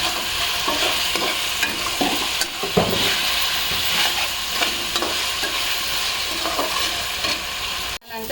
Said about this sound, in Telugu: ఇప్పుడు కలుపుతూ ఉండాలండి,